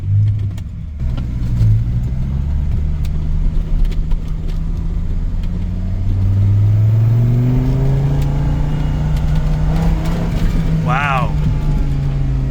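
A Dodge Viper's engine revs and pulls while driving, a loud steady drone that climbs in pitch through acceleration, with a brief voice near the end.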